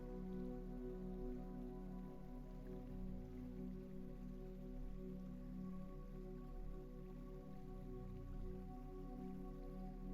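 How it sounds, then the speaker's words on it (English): A steady, even wash of water runs without break beneath a soft sustained drone, calm and continuous from start to end with no voices. "The sound of the water is steady, arriving, receding, returning again."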